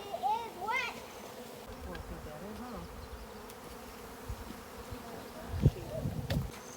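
A dense, steady buzzing of a honey bee swarm clustered across two tree branches hums throughout, with a few louder close passes and faint distant voices in the background.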